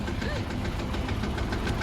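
A tractor engine rumbles on a highway with a low, knocking chug that runs steadily throughout and sounds fairly close.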